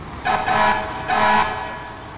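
A fire truck's air horn in the video game EmergeNYC gives two loud, blaring blasts, each roughly half a second long with a brief gap between them, alone with no talk.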